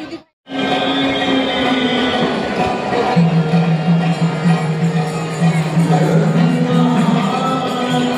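A crowd waiting in line at an ISKCON temple, a steady, dense murmur of many voices close around with a sustained hum, continuous throughout after a brief silent start.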